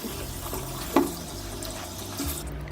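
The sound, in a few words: water rinsing soap off with a walnut sponge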